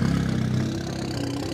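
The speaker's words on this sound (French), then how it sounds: "Je laisse éteindre le moteur de votre véhicule, s'il vous plaît." A tuned car's engine idles close by with a throaty, pulsing low rumble that eases slightly after the first half second, steady and loud with no voices.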